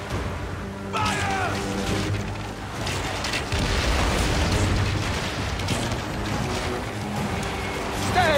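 Ship cannons in an Assassin's Creed Origins naval battle boom out in a ragged volley of heavy blasts over rushing sea and hull noise, loud and rolling, with a brief shouted voice near the start.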